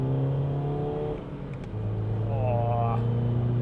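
A BMW 320D fitted with a 330D turbo pulls hard in second gear, the diesel engine droning loud and close as its pitch climbs, dips briefly at a shift-like lull, then rises again.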